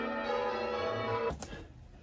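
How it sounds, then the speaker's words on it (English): Church bells ring out with a sustained, humming tone that holds steady for over a second, then abruptly drops away to a quieter fading tail. "Even the bells ring out in support."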